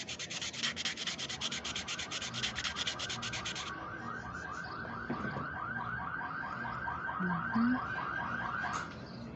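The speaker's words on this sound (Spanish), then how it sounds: "Ahorita estamos limando." A nail file rasps rhythmically against fingernails during an at-home manicure, with steady close back-and-forth strokes continuing throughout and a brief pause near the middle.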